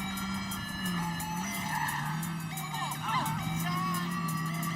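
Car engine hum with tire skids and squeals in the video game Watch Dogs 2, a steady drone with brief screeching bursts near the middle, continuous and fairly loud with no talk.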